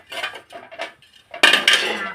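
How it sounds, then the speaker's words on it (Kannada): A metal griddle for roti is set down on a lit stove with a few clanks and scrapes, followed by louder rattling metallic contact. "ಒಲೆ ಹಚ್ತೀನಿ. ಹಂಚಿಡ್ತೀವಿ ನೋಡ್ರಿ."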